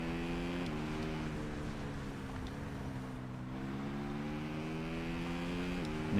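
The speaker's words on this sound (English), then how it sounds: "And of course you get the noise of the engine" A racing motorcycle's engine in the TT Isle of Man 2 video game, a steady high-pitched whine with harmonic tones that dip and climb as revs change, accompanied by a constant rush of wind noise.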